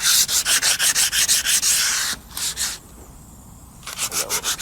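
Hand sanding and shaping of fiberglass filler on a 1956 Chevy two-door body makes loud, close, rhythmic rasping strokes in quick even bursts, pausing in the middle before the scrubbing strokes resume.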